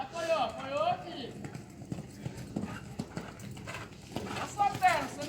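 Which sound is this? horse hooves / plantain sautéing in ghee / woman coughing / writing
horse hooves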